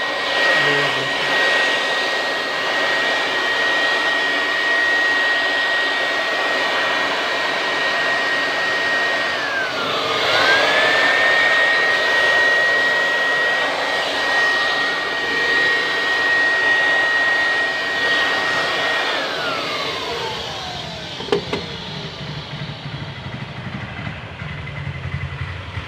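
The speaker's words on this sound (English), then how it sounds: "use blower machine" A blower machine roars steadily while cleaning the outdoor unit of a split air conditioner, a continuous loud whoosh with a high whine that dips and recovers, then fades as it winds down.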